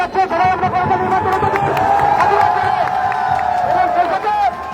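Students at a quota reform protest at Khulna University cheer and shout loudly as one continuous close crowd roar, with voices throughout and a few claps lost in the noise.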